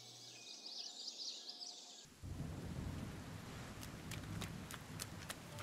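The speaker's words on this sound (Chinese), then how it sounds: "糟糕，下雨了。" After a brief tonal, musical opening, rain starts abruptly and settles into a steady, fairly loud hiss of downpour, with a few faint high chirps on top.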